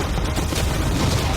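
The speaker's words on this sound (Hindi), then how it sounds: "कैनन्स को फायर करो।" Cannons firing at a yacht, a dense continuous barrage of booming shots that fills the whole stretch at high volume.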